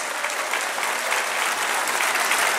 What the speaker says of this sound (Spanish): ahí está el gran aplauso, muchachos